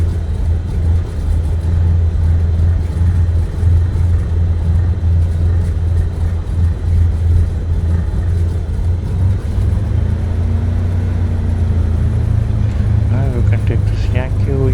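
A Cessna 172 idles while taxiing in Microsoft Flight Simulator, its engine a constant low, droning hum that holds steady throughout, with a voice talking over it.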